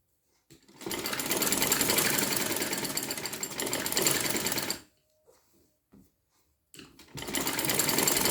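A sewing machine stitches a collar neck with box stitching in two loud, continuous runs of fast mechanical whirring, with a short pause and a few faint clicks between them.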